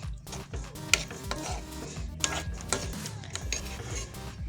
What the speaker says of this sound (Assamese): আৰু এতিয়া ইয়াতে মই কঁঠাল গুটিখিনি দি দিম।